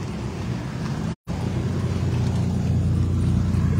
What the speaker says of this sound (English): Here comes the Isuzu.